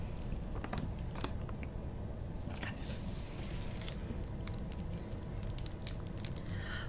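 Close, crisp biting and crunchy chewing of a Nestlé Crunch Rice Krispies chocolate bar, steady and continuous with occasional crinkles, intimate and fairly loud.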